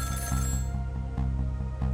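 A telephone rings in a steady electronic trill, repeating in quick regular bursts over the busy soundtrack of the video game Ghost Trick, with low rumbling underneath.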